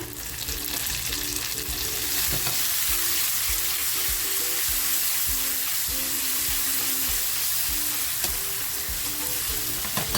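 Chopped onion and tomato fry in a pan for a palak paneer dish, giving a loud, steady sizzle that lasts the whole stretch. Light scraping from stirring recurs underneath, and nobody speaks.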